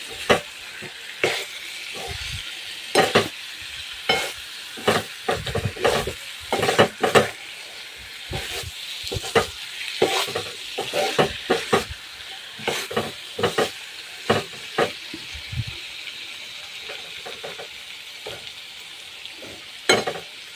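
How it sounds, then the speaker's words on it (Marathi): A spoon stirs bitter gourd pieces into a thick gravy in a pan, giving repeated scraping strokes and soft clatter over a steady sizzle, close and alone with no talk. "आता आपण त्याच्यात कारले ऍड करू आता मस्त छान अशी मिक्स करून घ्यायची आहेत"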